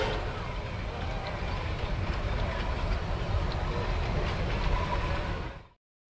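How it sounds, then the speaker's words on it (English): A steam train runs on rails through the lower grounds, a steady, dense rumble with faint rhythmic clatter that holds for several seconds and then cuts off abruptly. "the train made its way through the lower grounds"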